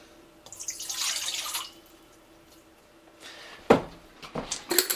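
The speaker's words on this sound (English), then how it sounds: "I start with 3/4 of a cup of water." Water poured into a container for homemade pizza dough, a bright splashing pour lasting about a second, then quiet with a few later clinks and taps of kitchen handling.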